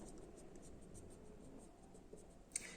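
Pencil strokes shading lines on paper for a light-and-shadow drawing exercise, a soft continuous scratchy rasp of repeated strokes, close and quiet, with one brief louder tap near the end and no talk.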